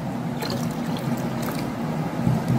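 Room-temperature water pours steadily into a bowl for orange ice cream, a continuous close trickle and splash without pause.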